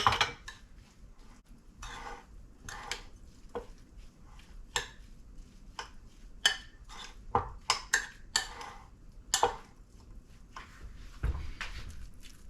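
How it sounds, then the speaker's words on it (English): A spoon scrapes and clinks in a bowl while seasoning is mixed into stuffed mushroom filling, making irregular close taps and scrapes against the bowl. "I'm just mixing everything together here"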